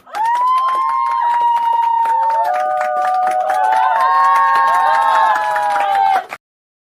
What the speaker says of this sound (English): I gotta get her clap it up one time for the GoFundMe people.